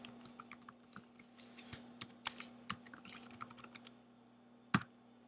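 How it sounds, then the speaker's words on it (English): Quiet keystrokes tapped on a computer keyboard while entering an email address, an uneven run of light clicks ending in one sharper key press, close and faint with no talk. "I'm going to type in the email address."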